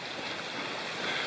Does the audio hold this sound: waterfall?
yes